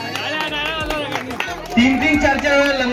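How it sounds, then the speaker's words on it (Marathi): An audience claps loudly at a Home Minister Paithani game show event in Kasar Aali, Shahapur. A dense patter of hands runs under a crowd hubbub, with a voice speaking over it. "सगळ्यांसाठी जोरदार टाळ्या करूयात"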